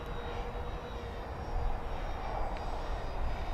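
A Freewing F-14 Tomcat RC jet flies overhead just after takeoff, giving a continuous whooshing turbine roar that holds steady and swells slightly louder partway through, with no speech.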